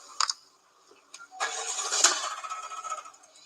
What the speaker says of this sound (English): It sounds like something's going to come out of the engine.